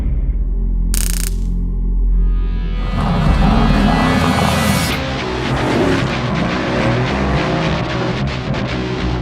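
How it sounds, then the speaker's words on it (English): A 2016 Mercedes-AMG GT S sports car is driven with a loud, close engine roar that swells and rushes past, its deep rumble rising into a harsher, sustained growl. "Let's drive the all-new 2016 Mercedes AMG GT S and check the tech."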